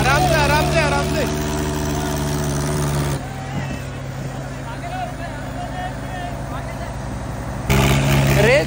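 A Mahindra 575 tractor engine runs loud and close, its steady drone dipping and surging as the revs drop out and return, with voices talking over it.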